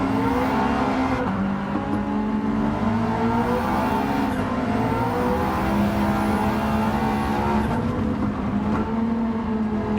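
A racing-game car fitted with a racing air filter and exhaust drones steadily at sustained revs, a loud, continuous engine note with slight pitch wavering and no talk over it.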